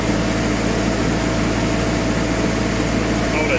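Antonio Carraro Tony TR10900 tractor engine locked at raised PTO speed around 1660 RPM, a steady loud drone with a constant low hum that does not vary, with someone speaking over it.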